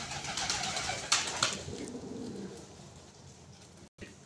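Iraqi pigeons coo softly in low, rolling murmurs, with a couple of brief flutters early on; no talking.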